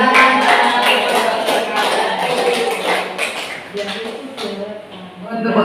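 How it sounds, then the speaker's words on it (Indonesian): Audience at a school teachers' event clapping at close range, a dense patter of hands that gradually thins toward the end, with a voice partly over it. "Tepuk tangan sekali lebih meriah Bu"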